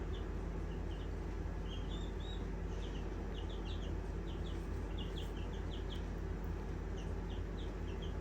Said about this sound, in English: Got some new little turkeys.